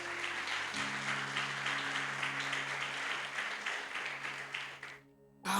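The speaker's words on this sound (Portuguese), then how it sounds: "Você pode aplaudir bem forte ao Senhor." A church congregation claps loudly and continuously during a worship service, a dense, even roar of applause with a low hum beneath it, cutting off abruptly near the end.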